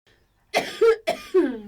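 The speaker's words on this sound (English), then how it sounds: "And before long she had a nasty chesty cough to go with it." A close, harsh chesty cough in three wet, phlegmy bursts, starting after a brief silence.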